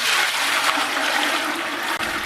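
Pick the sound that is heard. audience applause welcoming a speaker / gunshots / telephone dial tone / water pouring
water pouring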